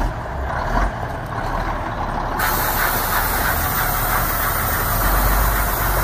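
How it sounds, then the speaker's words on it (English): A 1985 Mack RS690LS concrete mixer truck with a 9-yard McNeilus drum, heard nearby as a loud, steady diesel rumble while it moves back and forth, with a sharp hiss of the air brake partway through and no talking. "Showing you the truck backing up, going forward."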